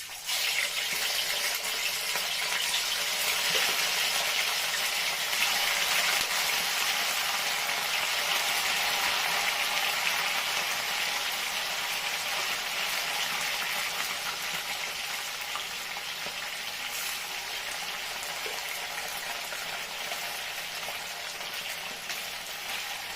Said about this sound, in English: I'm going to start frying.